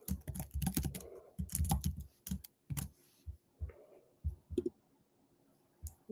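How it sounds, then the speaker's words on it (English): Quick bursts of clicking keystrokes on a computer keyboard, entered while working in SQL, with dense rapid clusters early that thin out into a few separate taps and pauses near the end; no speech. "So again, typing too fast"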